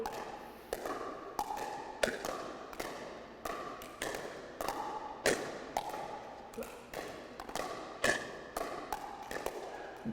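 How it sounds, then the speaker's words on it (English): Crisp, repeated pops of a pickleball paddle striking the ball during a steady volley drill, a quick regular rally of sharp taps close by with no talking. "we're making really good contact with the ball every time we hit it"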